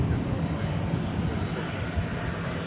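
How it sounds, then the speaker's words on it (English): A fixed-wing aircraft on the runway at DFW airport at night gives a continuous broadband engine roar, steady and fairly loud with no clear rise or fade, under a faint high whine. "that's a 20th century aircraft"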